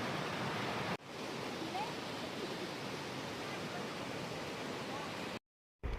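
Mountain waterfall in Himachal near Sach Pass, a steady, loud broadband rush of falling water that fills the whole clip and breaks briefly twice, with no talking.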